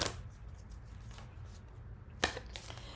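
Oracle cards are shuffled close by, a soft riffling texture with two sharper flurries of cards snapping together, heard alone against a low background hum.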